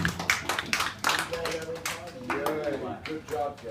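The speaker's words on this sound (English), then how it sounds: "Give them a round of applause." Classroom clapping for students standing at the front of a lesson on mutations, a short burst of hand claps that blends with a teacher's voice and laughter as talk resumes over it.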